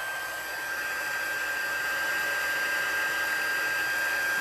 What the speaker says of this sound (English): Got my heat tool. Let's get that heated up.